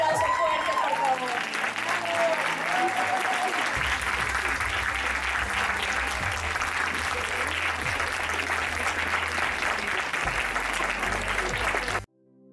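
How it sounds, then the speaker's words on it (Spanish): An audience applauds loudly at a 2018 honorary medal ceremony at the Universidad Iberoamericana. Sustained, dense clapping from a large crowd runs for about twelve seconds before cutting off abruptly. "Un aplauso fuerte, por favor."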